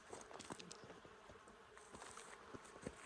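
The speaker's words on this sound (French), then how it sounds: "Je suis sûre que vous entendez les abeilles." Bees buzz outdoors in a faint, steady hum with small flickering passes near and far, quiet and continuous without voices.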